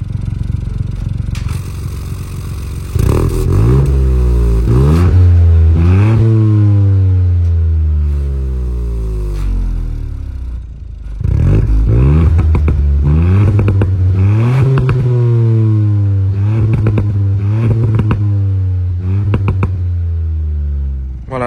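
Ford Fiesta ST+ engine revving loudly and close, rising and falling through repeated climbs in pitch as it accelerates through the gears, with a brief lull midway before pulling hard again.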